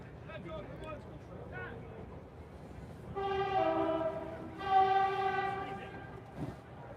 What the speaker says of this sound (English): Train going off in the background